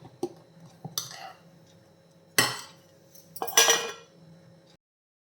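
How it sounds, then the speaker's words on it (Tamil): A spoon stirs appam batter in a bowl, giving a few sharp clinks and scrapes against the sides, with quiet gaps between bursts and no talking. "இப்போ வந்து ஒரு வாட்டி இதை நல்ல இப்படி கலக்கிட்டு ஆப்பம் பண்ணிட வேண்டியது தான்"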